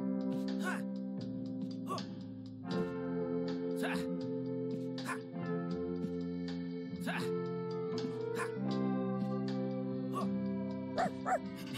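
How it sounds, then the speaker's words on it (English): A small cartoon dog in the video game Stick it to the Man whimpers and yips repeatedly, while a character voice and game sounds run alongside. "hey there, little guy. You're Heart, Arlene's dream dog, aren't you"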